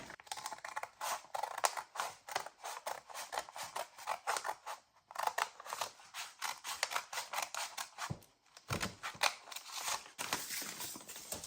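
Scissors snip steadily through a double layer of brown paper bag, fold included, in a quick run of close, crisp cuts with a brief pause near the end.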